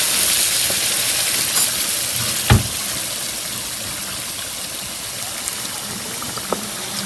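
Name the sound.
hot water sizzling added to rice in pan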